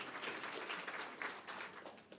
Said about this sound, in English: I feel like everybody needs a round of applause for this one